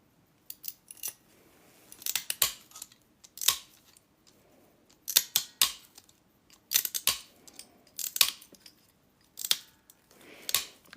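Scissors snip through fused glass project material in a quiet room, a series of sharp, crisp cuts coming in short bursts with brief pauses between, close and clear, no talking.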